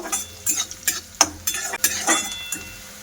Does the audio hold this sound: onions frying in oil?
yes